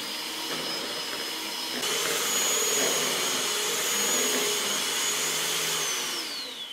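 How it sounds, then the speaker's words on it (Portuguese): A kitchen blender beats powdered passion fruit juice mix and other strawberry mousse ingredients, a loud steady motor whir that shifts slightly in pitch partway through and runs without pause, with no speech. "E agora eu vou voltar a bater bem esses ingredientes aqui até ficar totalmente homogêneo"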